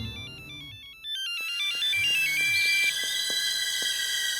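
An electronic ringtone announces an incoming phone call, playing a repeating tonal melody that starts after a brief pause and continues steadily and clearly to the end, with faint background movement underneath.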